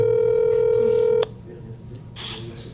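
A sequence of telephone touch tones plays as a number is dialed for a prank call, steady and loud for about a second before cutting off into quiet room sound with soft background voices.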